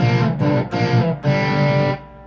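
Distorted electric guitar riff with sliding notes, a few sustained chord hits in quick succession, close and loud, ending in silence.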